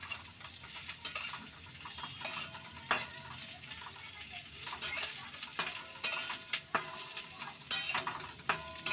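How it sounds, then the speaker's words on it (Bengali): Pumpkin pieces for a sour pumpkin dish sizzle steadily in a pan, with a spatula stirring and scraping in sharp, irregular clinks over the frying hiss. "কুমড়ো দিলাম, কুমড়োগুলো একটুখানি ভাজা হোক।"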